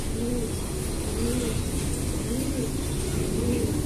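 Medium-sized imported bird cooing in a cage, soft repeated two-part coos in a steady rhythm over constant low background hum.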